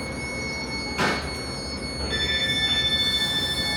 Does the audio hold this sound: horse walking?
no